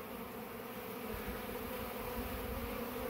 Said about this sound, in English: Oh, there's a bumblebee trying to get in there.